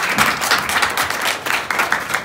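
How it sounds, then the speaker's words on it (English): Audience applause fills a business opportunity preview event, a dense, steady wash of many hands clapping at close range for the full stretch with no pauses. "give her a big round of applause"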